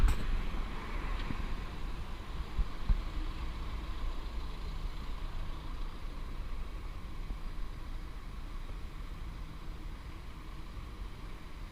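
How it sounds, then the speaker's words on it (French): Car engines in London street traffic around Kensington hum and rumble steadily at a distance, a continuous low drone with no voices. "Faut que j'écoute le bruit des moteurs."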